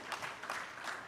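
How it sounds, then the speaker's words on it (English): Audience applause for sponsors at the 876get E-Commerce Summit 2022, a brief, fairly faint wash of steady clapping from a crowd with no voices over it. "a round of applause for each one of them"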